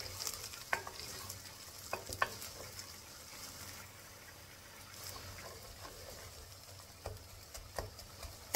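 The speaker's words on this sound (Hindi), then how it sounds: "अब हम इसमें 2 बारीक कटी हुई प्याज को ऐड कर देंगे। हमने इसको लाइट गोल्डन ब्राउन करना है।" Two finely chopped onions frying in a pan for beef karahi, a soft steady sizzle under scattered sharp clicks and scrapes of stirring, fairly quiet and close.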